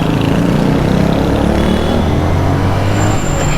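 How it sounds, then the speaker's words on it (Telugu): Steady roar of city traffic heard from a motorcycle riding at night near SR Nagar, dense engine rumble and road noise filling the whole clip without pause, loud and close. "ట్రాఫిక్ బాగానే ఉంది."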